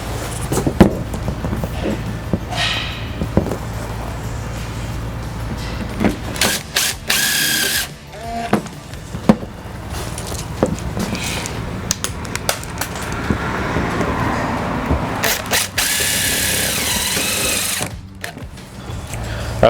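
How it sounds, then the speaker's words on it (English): A power drill drives a screw into a van door liner on a Ford Transit, in several whirring bursts with clicks and handling noises between them, close and loud. "we'll put a screw in the top side to hold it"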